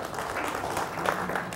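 Audience applause fills the short stretch, a steady wash of many hands clapping at moderate distance with no clear gaps.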